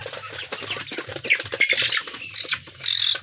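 Chickens squawking close by in a backyard poultry enclosure, a burst of loud, raspy, overlapping calls rising in short waves with brief pauses, no talking.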